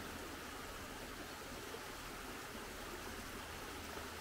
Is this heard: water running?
yes